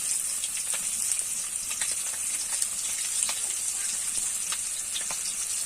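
Pieces of rohu fish frying in oil for a Bengali fish curry with taro, a continuous bright sizzle with scattered pops, close and steady throughout, no voices.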